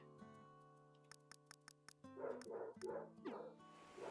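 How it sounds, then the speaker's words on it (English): A neighbour's dog barks from next door in several yipping bursts, moderately close, over a background of musical tones and game sounds. "so that I could edit out the 55 million goddamn barks from next door"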